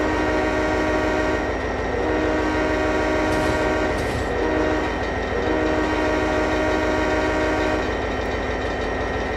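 Freight train in Trainz 2010 at speed on the Saginaw Subdivision: a loud, steady rumble of wheels and engine with sustained horn-like tones running throughout, no voices.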